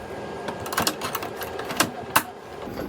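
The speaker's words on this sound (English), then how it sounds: "We're going to stick the frame back on the machine and stitch the tack down." An embroidery machine stitches the tack-down line on a sweatshirt held in its frame, a fast mechanical clatter of needle strokes with sharper clacks standing out, close and loud with no talking.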